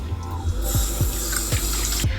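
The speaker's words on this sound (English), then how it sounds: "now I'm just gonna go in with a little water and wash it off" Tap water splashing as cleansing oil is rinsed off a face at a sink, with a running-water wash under several short, rhythmic splashing and rubbing pulses, close and moderately loud.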